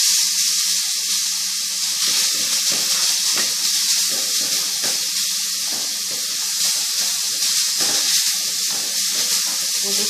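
Onion frying in a pan for stuffed beef rump, a steady close sizzle with crackling pops running continuously and evenly throughout.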